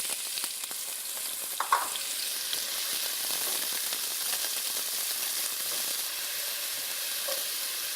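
A cup of onion fries in two tablespoons of hot cooking oil, a steady, close crackling sizzle with a few small pops, continuous and unaccompanied by talk.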